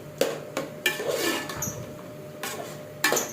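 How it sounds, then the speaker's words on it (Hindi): Salan curry sautéed in a cooking pot, a spoon scraping and clinking against the metal in several sharp, irregular strokes with faint sizzling between, close and fairly clear. "अब इसको मैं किस तरह भूनती जाऊंगी अभी आपको दिखाऊंगी"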